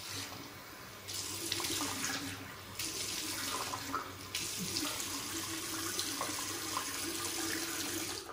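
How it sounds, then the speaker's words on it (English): A bathroom sink tap runs continuously as a face is wet before a shave, a close, steady hiss of flowing water with brief shifts in tone where hands cup and splash under the stream. "We got our face wet and we're gonna get lathered up."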